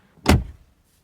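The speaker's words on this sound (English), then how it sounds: "when you close the door, check this out." A single solid thunk as the door of a 2020 facelift Mercedes-AMG C63 S V8 is shut, a short, close, heavy impact that fades quickly into quiet.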